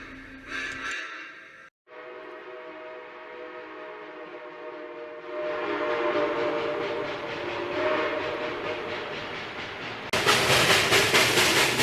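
Steam locomotive 5304 chugs at a July 4th steam-up event, with rhythmic exhaust beats that grow louder, a whistle tone sounding along with them, and a sharp burst of hissing steam near the end.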